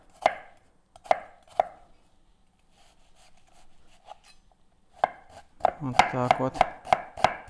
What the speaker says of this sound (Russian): Лук я нарезаю мелким-мелким кубиком.